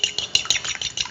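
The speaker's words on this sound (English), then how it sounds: "Mix the yellow and the white thoroughly" A raw egg, yolk and white together, is whisked quickly in a bowl with a utensil, giving a fast, even run of close, wet clicking strokes.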